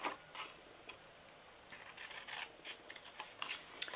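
Quiet, close snips and scrapes as paper card box flaps are cut with scissors, a scattered series of light ticks and rasps with no talking.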